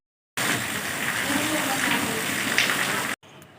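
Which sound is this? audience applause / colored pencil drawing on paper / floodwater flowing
floodwater flowing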